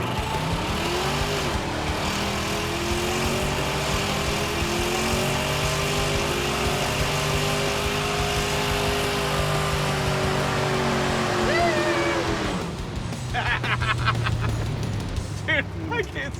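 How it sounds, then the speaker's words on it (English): A Corvette does a long burnout, its engine held at high revs in a loud sustained howl while the tires spin and squeal, then the engine drops back to a lower idle-like rumble near the end; voices talk over it. "Wow, Corvettes do great burnouts."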